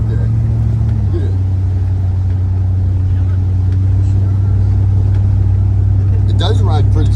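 A 1973 Dodge Charger cruising on the road, heard from inside the old car as a loud, steady low engine drone and road rumble that holds constant throughout.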